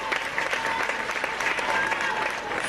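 Steady crowd applause at a public ceremony for commissioning a power project, close and continuous for under three seconds with faint voices mixed in.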